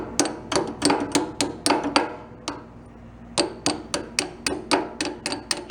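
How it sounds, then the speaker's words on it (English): Steel hammer tapping a retaining pin on a Kubota tractor's three-point hitch, about fourteen sharp metallic strikes in two quick bursts separated by a short pause, close and loud. "I gotta tap it with a hammer."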